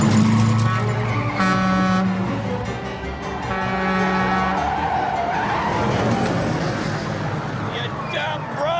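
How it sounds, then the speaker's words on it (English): Car braking hard and reversing on a one-way street in a comedy film scene: a tire skid and rolling engine noise mixed with horn-like tones and people talking over it. "Apply the brakes. Now put it in reverse."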